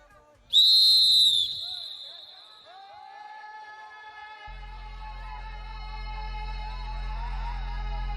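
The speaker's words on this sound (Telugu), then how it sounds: "Okay, ready for long whistle." A referee's long, loud whistle blast of about a second starts a tug-of-war contest between men in dhotis, then fades into lingering tones, faint crowd murmur and a low steady hum.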